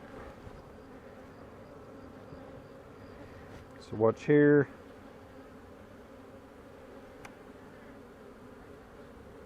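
A single close bee buzz flares briefly at an open beehive amid a quiet background, with a few soft spoken words nearby.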